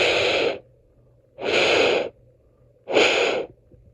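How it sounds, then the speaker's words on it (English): Three separate breathy gusts of air blown into a Snap Circuits microphone, each about half a second long and played back through the kit's small speaker as loud rushing hiss. Near-silent gaps separate the bursts, and no one speaks. "you can blow into the microphone and hear it on the speaker"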